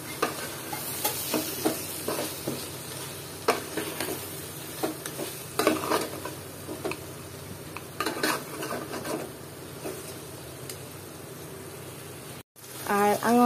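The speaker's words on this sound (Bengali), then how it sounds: "আর এখন এটাকে আবার একটু নেড়ে চেড়ে দিব।" Mutton white korma stirred in ghee in a pan, with a continuous sizzle and repeated scraping and clinking of a spoon against metal. A voice speaks intermittently over the cooking.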